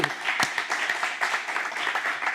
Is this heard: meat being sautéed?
no